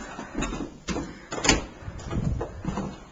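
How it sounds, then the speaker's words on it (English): A residential garage door opening, with a rumbling mechanical roll broken by a few clunks and rattles, moderately loud and fairly close, no talking. "Garage door."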